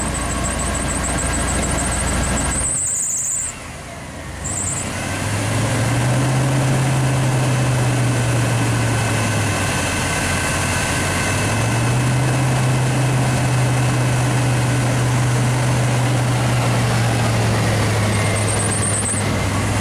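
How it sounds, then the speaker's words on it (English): A motorhome engine with electrical problems runs steadily, then revs up twice in long smooth swells before settling back, loud and close, with a brief dip in the running noise early on. "Rev it up a little bit."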